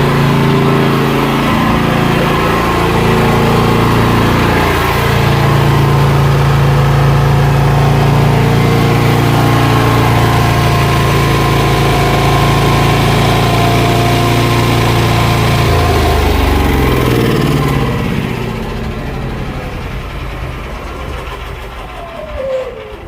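A small gasoline engine idles loudly and steadily, its pitch wavering slightly before the running sound drops away near the end, leaving a quieter tail.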